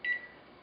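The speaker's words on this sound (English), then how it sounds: "I'll set my timer" A kitchen timer being set while tomato soup cooks gives one short, high electronic beep, fairly quiet, followed by faint room hum.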